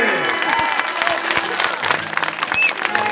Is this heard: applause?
yes